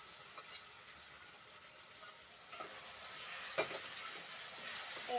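Pork drops into a pan of well-cooked tomatoes for a wet pork and spinach dish, a steady hissing sizzle with light scraping and stirring that swells slightly toward the end.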